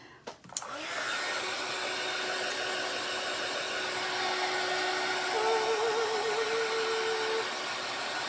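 A hair dryer blows steadily and loudly for several seconds, drying paint on a DIY copper-toned glass jar lantern, with no talking over the whir.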